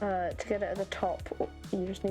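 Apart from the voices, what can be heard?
No everyday noise stands out behind the speech.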